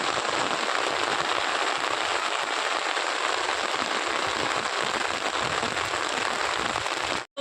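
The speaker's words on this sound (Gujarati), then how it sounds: "બધી બાજુ વરસાદ વધારે પડી રહ્યો છે." Heavy rain in Banaskantha, Gujarat pours down in a dense, steady roar for several seconds, then cuts off abruptly at the end.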